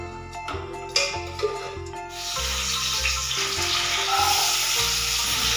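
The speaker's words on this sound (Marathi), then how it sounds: "गरम तेल झाल्यावरती आईने त्याच्यात कांदा टाकलाय कट करून बारीक कढीपत्ता टाकलाय" Chopped onion and finely cut curry leaves hit hot oil for a chicken dish, opening with a few clinks. A loud, steady, close sizzle then builds and holds to the end.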